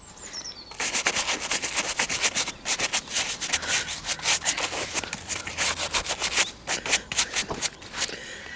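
Boots being brushed clean of beach sand near a lighthouse on the Gower Peninsula, giving steady scratchy bristle strokes in quick repeated bursts, fairly close and moderately loud, with no talking.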